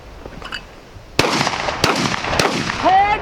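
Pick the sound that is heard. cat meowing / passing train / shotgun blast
shotgun blast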